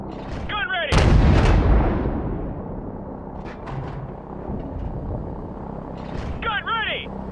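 A 25mm cannon fires in the Call of Duty Modern Warfare video game, one heavy booming shot followed by a rumbling decay, with helicopter drone, electronic chirps and radio voices around it.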